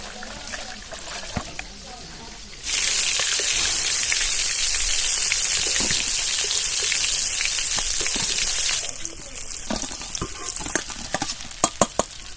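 Fish heads of rohu and katla carp fry in a pan. A loud, steady hiss of sizzling oil starts abruptly, holds for about six seconds, then drops to quieter crackle and clattering of utensils.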